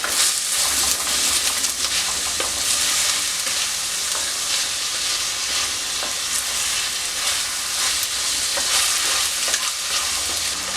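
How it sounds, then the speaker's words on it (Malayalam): Cut potatoes with onions are sautéed and stirred in a hot pan while cooking a potato and prawn stir-fry, giving a steady, close sizzle with constant scraping and stirring throughout and no talking. "ഇനി നമ്മളിവിടെ കട്ട് ചെയ്ത് വെച്ചിരിക്കുന്ന ഉരുളക്കിഴങ്ങ് ചേർത്ത് കൊടുക്കാം ഇത് ഒന്ന് വഴറ്റി കൊടുക്കാം"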